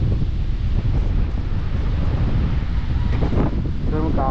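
Strong wind and rough, pounding sea during Typhoon Pepito on the coast, heard as a loud, unbroken roar buffeting the microphone close up, with surf churning beneath and no break throughout.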